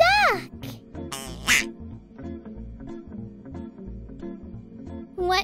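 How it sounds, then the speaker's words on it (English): Cartoon-style duck quacks in a children's shadow-animal story, a few bright quacks at the start and another at the end over soft background music. "It's a duck."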